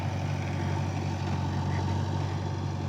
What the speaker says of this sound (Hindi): ये हमारा 744 स्वराज माटी लोड हो रही है